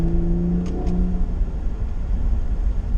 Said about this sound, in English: it's definitely making a little bit more noise. The V6 sounds better.